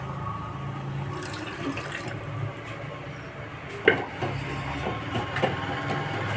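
Water running from a kitchen tap while a rasam-style broth is being prepared, a soft continuous splashing flow with a few louder splashes and clinks near the end.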